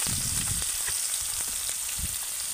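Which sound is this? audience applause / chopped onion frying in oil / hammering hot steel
chopped onion frying in oil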